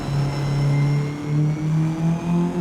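A Mitjet race car at Magny-Cours in stormy conditions, its mid-pitched engine revving hard and climbing through the gears, heard loud and close from the cockpit with brief dips at each shift.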